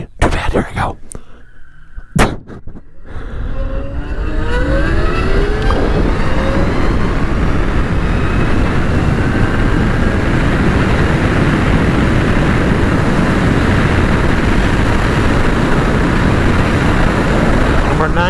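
A motorcycle pulls away at full throttle and climbs to around 90 mph, its roar turning into a loud, continuous drone with strong wind rush. A few knocks and handling noises come first.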